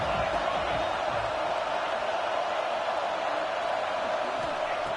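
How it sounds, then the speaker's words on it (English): A football stadium crowd during a college game makes a steady, dense roar as it cheers on the defense in the red zone, broad and continuous throughout. "the crowd coming to life here, trying to help this defense down in the red zone"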